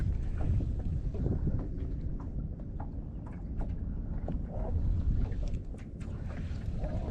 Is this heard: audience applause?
no